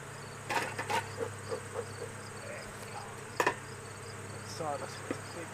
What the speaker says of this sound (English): You can really hear this hive buzzing, can't ya?